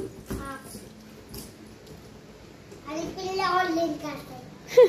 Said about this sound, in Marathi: पिल्लं खेळतात आहे